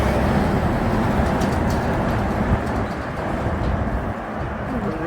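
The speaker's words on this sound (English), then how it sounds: "The road train." A road train truck rolls past on an outback highway near Cue, Western Australia, making a loud, steady, broad rumbling roar that holds through the whole stretch with no voices.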